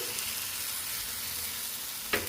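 Millet flour and buttermilk batter sizzles steadily on a hot nonstick pan. The frying hiss is constant and close, with a brief sharper crackle near the end.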